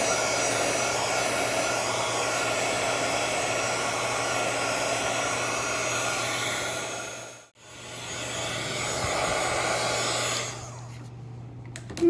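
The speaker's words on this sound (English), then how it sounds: "So I'm gonna take my gun, my heat gun. I'll go ahead and dry this." Heat gun drying Dixie Belle crackle medium paint, a steady loud blowing whir close by that cuts out briefly for a moment, then runs on and fades near the end.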